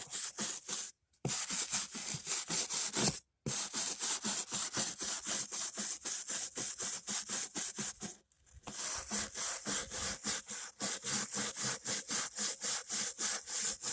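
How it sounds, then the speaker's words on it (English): Tiles coated in spray paint remover are scrubbed hard and fast, producing loud, close, rasping back-and-forth strokes in a steady rhythm, broken by two brief pauses, with no talking. "let's give this a scrub and see if it's soaked long enough"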